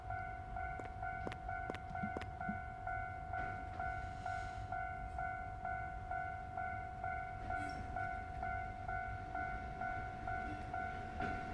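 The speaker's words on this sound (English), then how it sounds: "here comes a train." A train rolls through a railroad crossing in a video game, with a steady ringing warning tone and a continuous rumble of passing cars, plus a few sharp clacks early on.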